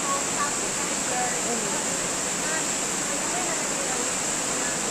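Irrigation water flows in a continuous, loud, broadband rush with no breaks, steady throughout.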